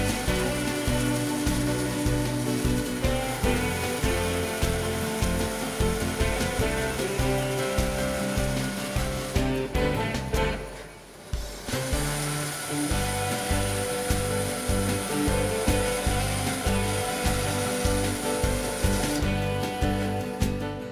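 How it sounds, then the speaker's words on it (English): A Felder N4400 bandsaw cuts wooden chair parts along a traced profile, giving a steady, loud buzzing drone with a brief dip partway through before the blade bites again. "Using a paper template, copy the profile and cut using the bandsaw."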